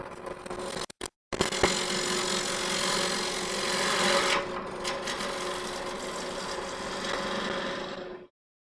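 A push cutter shears a wooden bowl spinning on a lathe, giving a steady broadband scraping hiss that swells and eases across several seconds, broken by a short pause near the start and ending abruptly.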